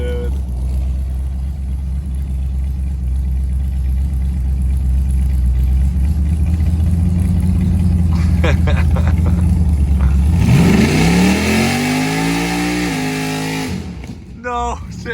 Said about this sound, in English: This truck is so loud, dude.